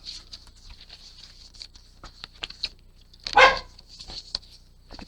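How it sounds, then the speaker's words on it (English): A dog barks indoors while someone works on crafts, one sharp close burst rising above quiet tapping and rustling in an otherwise calm room. "Excuse the dog, he knows I'm crafting."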